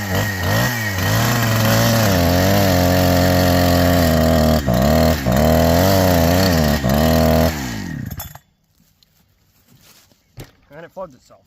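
A Farmertec Holzfforma G372 XP chainsaw fitted with a Walbro HD12 carburetor runs loud and close, its engine four-stroking with a burbling, uneven rhythm and small rev swells, then cuts out abruptly, leaving near silence with a few faint knocks.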